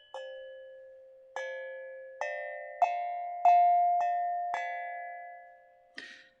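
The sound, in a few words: struck metal sound healing instrument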